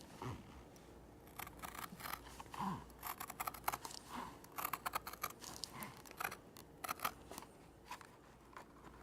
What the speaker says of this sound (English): when I'm cutting curves, I like to use shears. I will cut out my bill.